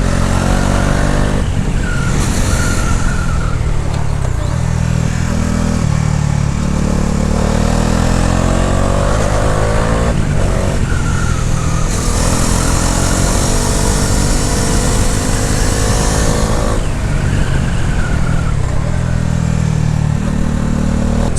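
Bajaj Dominar 400 BS6 motorcycle engine heard while riding with downshifts under braking, a loud continuous engine drone whose pitch rises and falls with repeated revs and gear changes, wind noise steady throughout, no talking.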